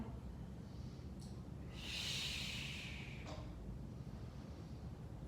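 A single drawn breath, smooth and airy, rises and fades over about a second and a half during slow Pilates reformer footwork, close and clear against a quiet room.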